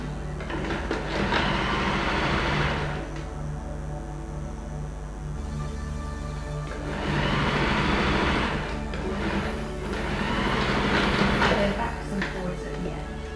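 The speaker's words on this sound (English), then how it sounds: "I'm just going to sew close to the edge" A sewing machine stitches A-line shift dress fabric close to the edge near a fold, running in three loud, steady bursts with brief pauses between them.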